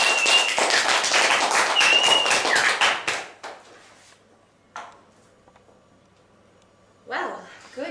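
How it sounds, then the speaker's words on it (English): A television studio audience gives loud applause, dense and close for about three seconds, then it cuts off abruptly, leaving near silence with a few faint sounds and a brief burst of talk at the end. "I have never heard such loud applause in this studio."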